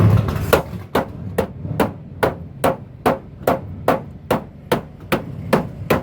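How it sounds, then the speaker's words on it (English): Sledgehammer blows on a drag car's bodywork to gain tire clearance: about a dozen loud, sharp metallic strikes at a steady rhythm, roughly two per second, close by with no talking. "when you're striking it with a sledgehammer"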